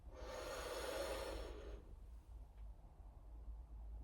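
A long, airy in-breath during a qi gong exercise, steady and close for about a second and a half, then fading into quiet room hush.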